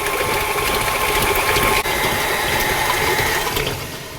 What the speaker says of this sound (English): I'm going to turn the mixer speed up, and we're going to let that go for about 5 or 6 minutes